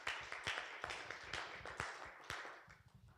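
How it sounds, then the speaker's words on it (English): Audience at a Tshwane University of Technology inventor's forum giving a round of applause, a scattered, moderately sparse patter of hand claps that thins out toward the end. "Colleagues, with a round of applause,"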